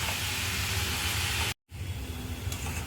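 Mustard greens bhaji sizzles and hisses steadily in a pan as it is stir-fried, a loud close broadband frying noise that cuts out briefly and then resumes, with no voices.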